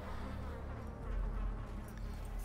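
A buzzing object in the game Darkest Dungeon gives off a steady insect-like drone, close and continuous throughout with no talk over it.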